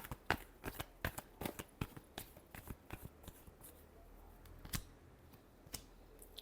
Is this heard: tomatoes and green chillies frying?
no